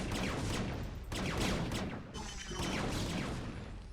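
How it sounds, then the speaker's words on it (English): Explosions and gunfire crackle in a StarCraft match, dense bursts of blasts and crashes in quick succession, loud and continuous with brief gaps. "I hear more explosions."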